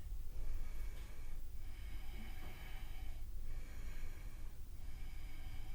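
Deep breaths during a yoga session at a wall: slow, close inhales and exhales that swell and fade about every second and a half over a quiet background.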